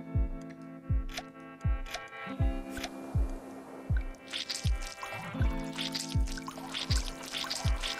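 In the survival game Dead in Bermuda, water is collected with a regular series of plopping drips and liquid splashes about every half second, set against a steady musical background.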